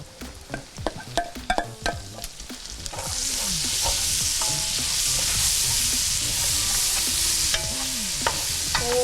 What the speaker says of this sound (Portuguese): Agora a gente vem com o alho e com a cebola.